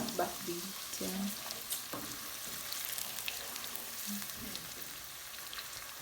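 Onions fry in a pan with a soft, steady sizzle and occasional stirring clinks, heard fairly faint and close, with a few brief low tones mixed in.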